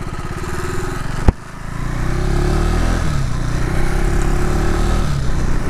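A 2025 KTM Adventure 390X motorcycle being ridden, its engine droning steadily close by with a sharp knock early on, then the pitch rising and dropping as the rider shifts through the gears.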